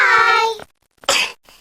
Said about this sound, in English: As I thought, Pedro's cough is catching.